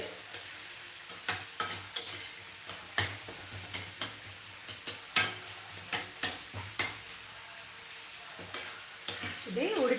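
Tomatoes sizzle steadily in a hot pan, a constant bright frying hiss broken by frequent light ticks and scrapes of a spoon stirring and turning them, with no talking.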